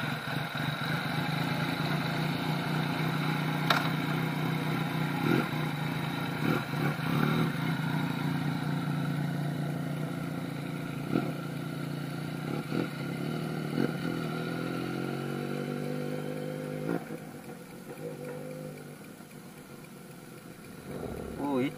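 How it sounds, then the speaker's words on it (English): Yamaha MT-09 motorcycle engine running steadily at close range on a test ride, with a continuous throbbing tone and occasional revs, while voices talk over it throughout. "Kiki, test ride motor aku."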